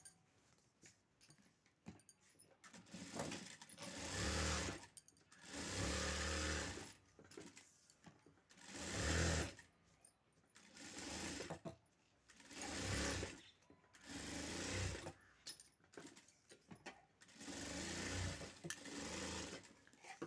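Sewing machine stitching a blouse lining to the main cloth: faint, rapid mechanical whirring in repeated bursts of a second or two, separated by short pauses, with no talking.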